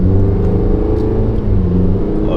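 Hongqi H5 luxury sedan engine roaring steadily at close range, a loud, continuous low rumble with a slight rev throughout and no talking.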